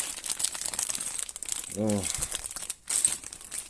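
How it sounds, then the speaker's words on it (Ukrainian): A plastic bag of metal hardware crinkles and rustles close up, with a short spoken word breaking in partway through. "Тут пакет з метізами."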